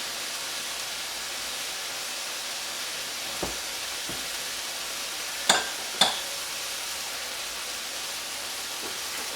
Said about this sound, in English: While the meat cooks, I'm giving the meat a flip off camera. But you can still hear that, I'm sure.